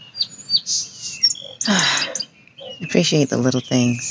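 Birds chirp and tweet outdoors on a drizzly day, with repeated short calls through the first half, then a close voice speaks over continuing bird song.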